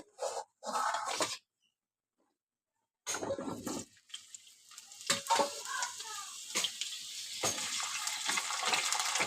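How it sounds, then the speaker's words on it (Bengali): Potato pieces dropped into hot oil in a wok for a pangas fish curry, breaking into a rising, steady sizzle after a few short clatters and a brief silence, close and moderately loud with no talking. "এবার আলুটা আমি ভেজে নেব।"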